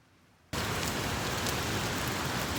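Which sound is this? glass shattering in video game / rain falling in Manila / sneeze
rain falling in Manila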